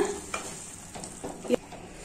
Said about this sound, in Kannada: ಇದೆಲ್ಲವನ್ನು ಹೀಗೆ ಮಿಕ್ಸ್ ಮಾಡ್ಕೊಳ್ಳೋಣ